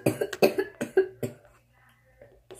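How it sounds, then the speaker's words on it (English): Several sharp, close coughs in quick succession from one person, loud bursts followed by a quieter pause and a faint throat sound at the end. "Sorry, just need to cough right there."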